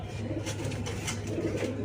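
Low, throaty cooing of racing pigeons rumbles steadily throughout, several birds overlapping nearby with a constant background hum and no talking.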